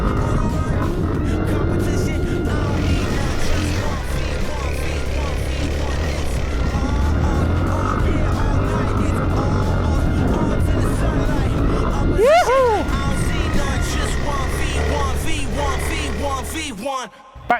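A supercross champion rides a motorcycle on its back wheel, the engine droning steadily with pitch rising and falling as it revs, a loud close run with babble and commentary layered over it until it cuts out at the end.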